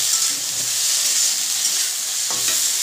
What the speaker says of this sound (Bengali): যতক্ষণ না মশলার কাঁচা গন্ধ যায় ততক্ষণ ধরে এটাকে সাঁতলাবো